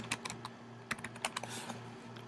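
Quiet, irregular clicking of keys being typed on a computer keyboard, coming in short uneven bursts of taps with a steady low hum underneath.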